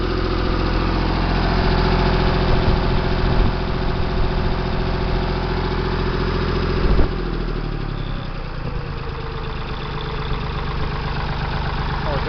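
A Ford 335 industrial tractor engine idles during its run-in, a steady close low rumble with a regular chugging pulse that shifts to a slightly lighter, uneven idle partway through.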